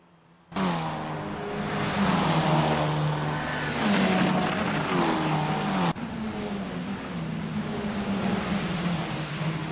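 Formula 4 race cars in Assetto Corsa lapping Bathurst, engines droning loudly and steadily with shifting pitch as they run close together, a sharp cut partway through, and no talking.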